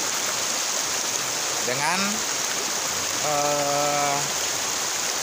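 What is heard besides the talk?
flowing water at confluence of Cikeas River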